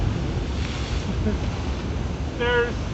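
Big ocean waves crash and surge up over the rocky sea cliffs at Kaloli Point on Hawaii's Big Island. The roar is continuous, with wind buffeting the microphone, and a brief voice is heard near the end.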